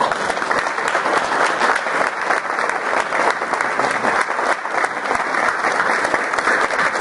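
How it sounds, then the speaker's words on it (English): A standing audience at a 10th anniversary recognition event applauds loudly, with thick, continuous clapping that holds at an even level throughout. "we're going to stand up and applaud everybody who has supported this station"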